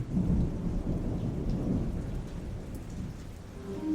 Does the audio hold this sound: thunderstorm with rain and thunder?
yes